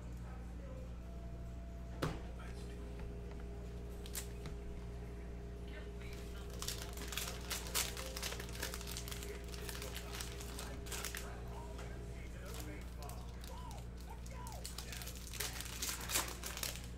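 Crinkling and tearing of a 2020 Panini Prizm football card cello pack being ripped open, a scattered run of close, crisp plastic crackles over a steady low background hum.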